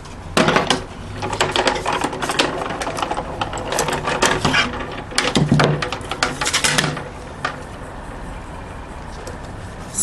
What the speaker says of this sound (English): you can double emboss using another embossing folder, just as easy. Pop it back through.